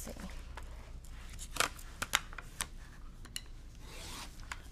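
Quilt fabric being cut into 2.5-inch strips, a soft rubbing rasp with a few sharp crisp snips and scrapes close by, quiet and without talk.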